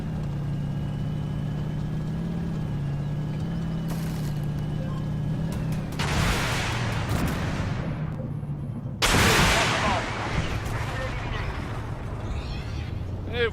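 Tank in a video game firing regular HE shells, two loud booming blasts a few seconds apart over a steady engine rumble, each trailing into a rolling decay.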